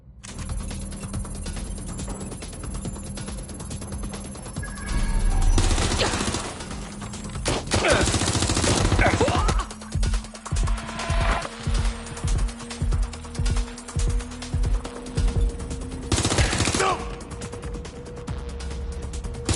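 Loud gunfire in the video game Watch Dogs Legion, heavy bursts and a rapid run of rhythmic shots over mechanical clatter and a sustained ringing tone, close and dense throughout.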